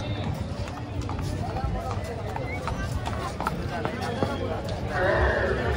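A champion Marwari stallion neighs and whinnies amid steady crowd noise and talk at a horse show in Gujarat, with hoof clip-clop mixed in and a louder burst near the end.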